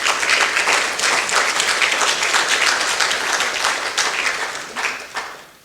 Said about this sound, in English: I think you needed to make another round of applause,